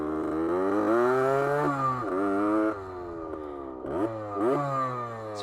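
A 1972 Yamaha LT2 100 enduro two-stroke motorcycle engine, freshly repaired, revving up and down several times in a row, with a buzzy rising and falling pitch heard close by.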